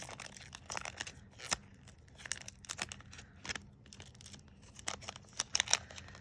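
A small package torn open during a Color Street manicure gives scattered close crinkles, rips and crunches, with a few sharper peaks, no voices.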